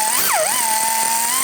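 A power tool runs steadily while tightening front brake bolts on a 2014-2023 Jeep Cherokee, its whine sagging briefly near the start and then holding a constant loud pitch.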